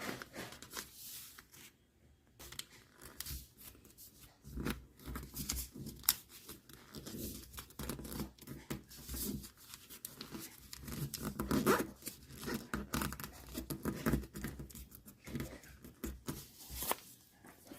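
Paper is folded and creased by hand to make a paper blade, soft rustling, crinkling and sharp pressing sounds in irregular bursts, close and quiet.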